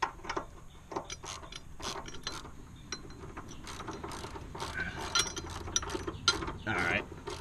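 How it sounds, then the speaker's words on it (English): A hand ratchet tightens bolts on a nerf bar bracket of a 2011 GMC Sierra 1500 crew cab, giving rapid close clicking bursts in uneven runs with short pauses between strokes. "They don't need to see me tighten bolts."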